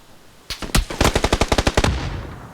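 A short, loud burst of rapid automatic gunfire in a video game, about a dozen shots in quick succession, then fading echo.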